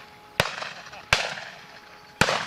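Shotguns fired at partridge during a driven pheasant shoot outdoors: three sharp, loud reports about a second apart, each trailing into an open-air echo.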